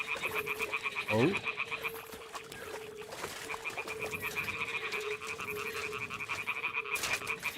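A loud, steady chorus of croaking toads from the video game Brushes with Death keeps up a continuous rhythmic rattle, with a short sweeping call early on and no talking.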